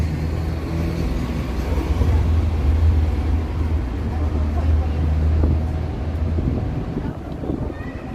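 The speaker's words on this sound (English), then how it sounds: "No, that was the subway, yeah." A Toronto subway train passes as a steady, loud low rumble that swells and holds for several seconds before easing off, with city street noise mixed in.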